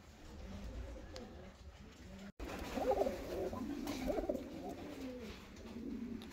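Fancy breed pigeons, such as Maltazar, Japanese, Könenberg, Helmit and Hünkari, coo in low rolling murmurs through most of the stretch, nearby but soft, after a quiet start broken by a brief dropout.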